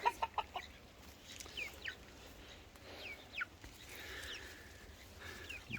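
Chickens clucking and calling out in a garden, several short soft clucks near the start, then scattered faint chirps over a low steady outdoor background with no talking.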